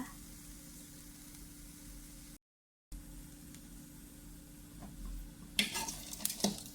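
Chilies dry-roast over low heat in a pan for a fermented fish jaew dip, a faint steady sizzle that later gives way to louder, uneven scraping and rattling as they are stirred.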